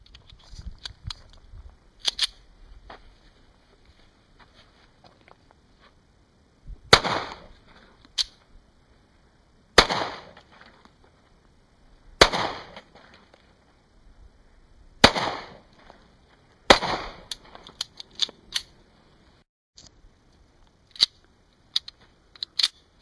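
Sharp, loud shots from an AMT Backup .45 ACP pistol, fired singly in an uneven string of about eight reports spaced a second or more apart, with quieter clicks and handling noise between them.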